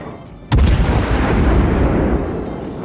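A heavy battleship main-gun salvo booms out in World of Warships, one loud blast with a long rumbling tail that fills the clip.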